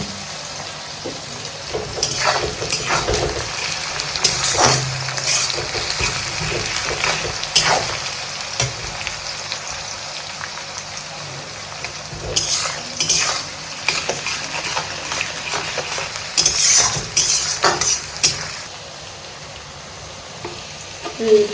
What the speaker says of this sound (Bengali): পেঁয়াজ ভাজার জন্য লাল লাল করে গ্যাসের ফ্লেমটা একটু লো করে দিই।